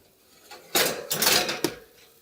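A pan of seitan being pulled out of an oven: a metallic rack slide and scrape, then a couple of clattering knocks as the pan is set down, close and moderately loud.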